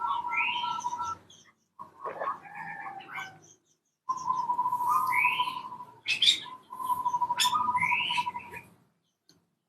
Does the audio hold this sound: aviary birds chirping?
yes